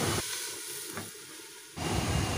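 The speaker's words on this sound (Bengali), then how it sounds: "চাল কুমড়োটা এখন ভেজে নিচ্ছি উচ্ছের সাথে।" Ash gourd pieces frying together with bitter gourd in a pan, a brief loud sizzle that drops away to a quieter hiss, then surges back strongly near the end, with no voices.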